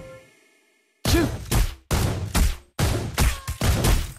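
Gunfire from Granger in Mobile Legends: a burst of loud, close shots in four rapid clusters separated by short gaps, following a quiet lead-in.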